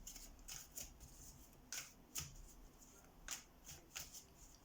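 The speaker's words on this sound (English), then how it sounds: "I'm going to shuffle the cards now" A deck of tarot cards is shuffled by hand at close range, quiet crisp riffling bursts coming in an irregular run of about eight short flutters with soft pauses between.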